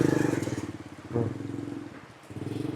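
A motorcycle engine runs close by after starting in the rain, with a steady, fairly quiet puttering idle and a brief rev midway.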